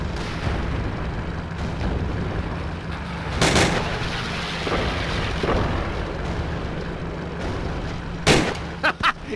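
Rifle shots ring out on a range in Call of Duty: Roads to Victory, fired at helmets: a few sharp cracks spaced apart over a steady rumbling ambience, with faint talk in the background.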